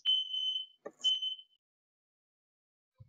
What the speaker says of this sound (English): It takes next to nothing to set off that fire alarm.